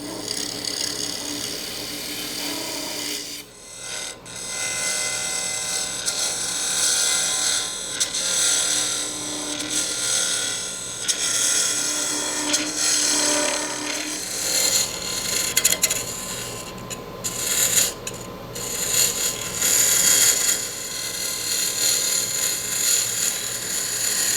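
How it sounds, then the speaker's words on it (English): Steady abrasive rubbing of sandpaper against a spinning maple blank on a lathe, continuous and close, with a few brief pauses and scrapes. "I've been sanding and testing and sanding and testing since I got this rounded out."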